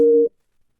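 A double tone cue on the second track of a hypnosis record: two low pitches sounding together in one short, loud, buzzy beep of about a quarter second, then silence.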